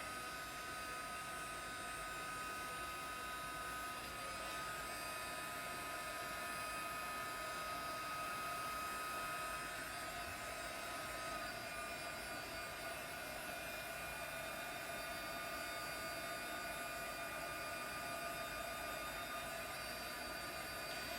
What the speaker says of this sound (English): if you're going to use a heat gun when you're inking, you don't want to get too close because the ink will bubble